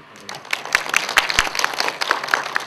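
An audience at a film screening of Paju (2009) claps for cinematographer Kim Woo-hyung, the applause starting thin and quickly building into a scattered, lively patter of many hands nearby.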